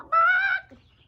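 A single voiced clucking squawk from a person imitating a chicken, close and loud, lasting about half a second before falling quiet.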